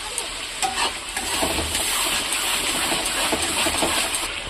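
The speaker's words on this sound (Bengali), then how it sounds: "দেখো মশলা আমার ভাজা হয়ে গেছে" Spices with cumin and coriander powder fry in oil, giving a dense, continuous bubbling sizzle with faint stirring, steady and close throughout.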